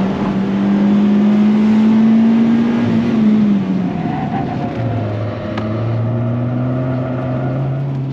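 A Citroën C2 VTS race car's engine drones steadily and close on a circuit, pitch dropping as it shifts, then holding a lower whine as it keeps driving.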